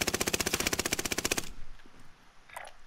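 Automatic gunfire in Call of Duty: Modern Warfare, a fast, loud, evenly spaced burst of shots for about a second and a half, followed by fading echo and faint distant game noise.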